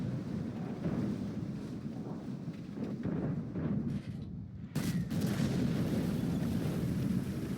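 Tank cannon fire in World of Tanks booms among heavy rumbling and wind-like noise, with a sharp loud blast near the middle followed by a sustained roar.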